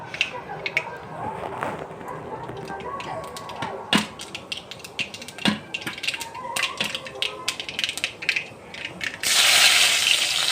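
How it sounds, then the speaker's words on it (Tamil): Mustard seeds splutter in hot oil in a pan while oyster mushroom gravy is cooked, giving close, irregular sharp pops and crackles that come in scattered bursts, ending in a louder rush of sizzle. "கடுகு போட்டுக்கோங்க கடுகு பொரியட்டும்"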